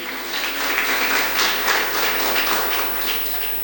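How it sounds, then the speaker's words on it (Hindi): An audience applauds at a religious discourse in Bhopal, a dense, steady roar of many hands clapping at once that holds evenly for several seconds. "सबके लिए ताली बजाओ।"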